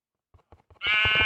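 Sheep in the Minecraft video game: three soft short bleats come first, then one loud, sustained, nasal bleat rings out clearly.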